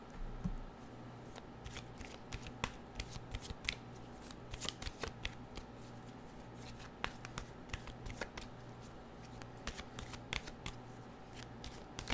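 A deck of oracle cards being shuffled, with a steady stream of soft riffling and slapping card sounds and brief sharp snaps, close but quiet over a low background hum.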